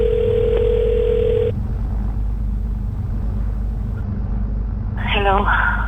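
Steady telephone dial tone heard through an Avidyne-equipped aircraft headset over a constant low engine rumble inside a small airplane, the tone cutting off after a second and a half, followed by warbling electronic tones near the end.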